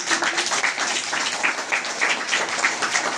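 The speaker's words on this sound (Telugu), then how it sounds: "తర్వాత వెరీ గుడ్, క్లాప్స్." A group of village primary schoolchildren claps together in a classroom, a steady dense patter of many hands, close and continuous with no pause.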